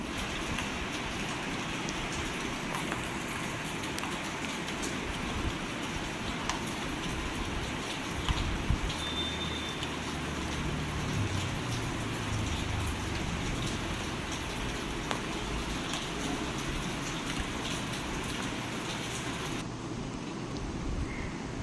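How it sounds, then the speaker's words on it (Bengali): Steady, dense rain hiss fills the whole stretch, a constant broadband wash with no pauses, like a heavy downpour drumming on nearby surfaces. "সকাল থেকেই খুব বৃষ্টি হচ্ছে"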